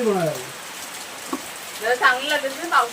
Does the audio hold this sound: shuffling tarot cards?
no